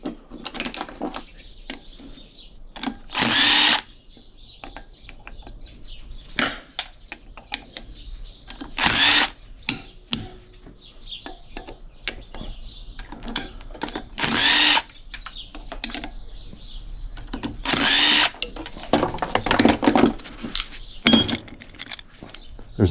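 A power tool cuts the shell off electric motors being scrapped, with several loud high-pitched grinding bursts of a few seconds each, separated by clinks and metallic handling noises.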